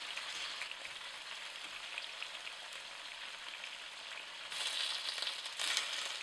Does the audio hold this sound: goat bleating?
no